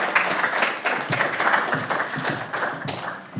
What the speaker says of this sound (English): Yes, applause for Kinga.